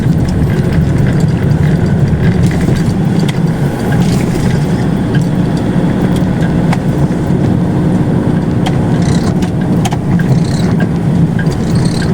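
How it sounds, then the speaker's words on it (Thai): A car engine runs loudly outside with a continuous, throaty drone that stays fairly even throughout and drowns out everything else. "บุญดำได้ มาเบิ้งรถอยู่ทางนอกเลยเนาะ"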